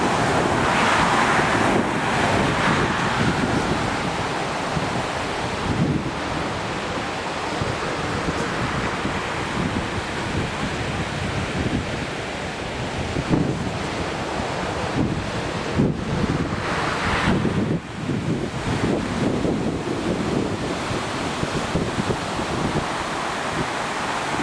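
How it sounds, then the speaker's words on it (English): Ocean waves roll and break steadily at Bruce Bay, New Zealand, with strong wind buffeting the microphone throughout, a loud continuous wash of surf and gusts and no talking. "Pretty waves."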